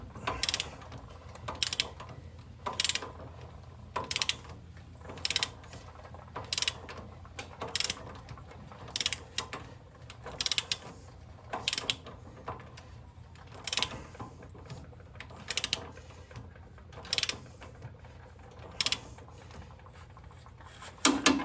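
Rapid ratcheting clicks from a wrench tightening a blower stud into a ball joint on a Ford Dana 60 front axle, coming in short repeated bursts with brief pauses, close and fairly loud, with no talking.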